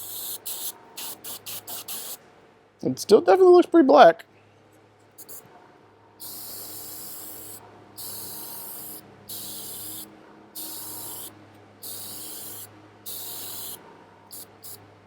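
An airbrush sprays black paint in short bursts of close hiss, one longer burst early, then a series of regular brief puffs, with a few quiet spoken words between.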